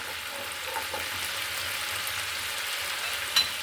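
Radish frying in a spice paste in a pan, with a steady close sizzle and a faint scrape near the end, and no voices.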